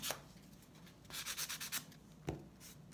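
Sandpaper rubs over a dried ornamental gourd in a quiet room, giving a series of short, close scratchy strokes in an uneven rhythm with brief pauses between them.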